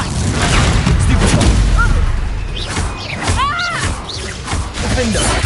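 Confringo blasting spells explode in Hogwarts Legacy, heavy booms and crashing impacts rolling through a chaotic fight while voices talk over the din.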